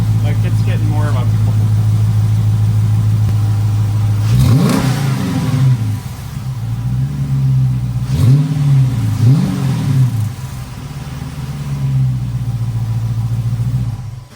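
Supercharged Dodge Charger Pursuit V8 idles with a deep, close rumble, then gets three sharp revs that rise and fall back to idle, loud and near, with someone talking over parts of it.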